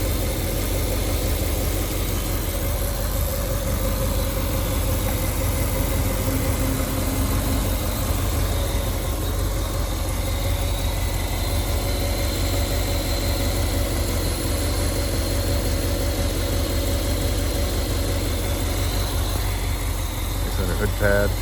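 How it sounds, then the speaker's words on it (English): A 1962 Ford Thunderbird convertible with a roadster kit idles steadily, its engine holding a smooth, even low hum with a constant tone throughout, while someone talks over it. "This motor runs smooth, quiet,"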